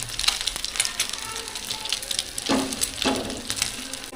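Tilapia pieces coated in egg frying in a pan, a close, moderately loud sizzle with a few sharper crackling bursts, no talk.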